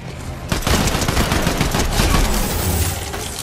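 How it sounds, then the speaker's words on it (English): Dense, loud bursts of rapid gunfire from the Fortnite Zero Build video game erupt after a short moment, overlapping into a sustained barrage of shots. "they're all shooting me"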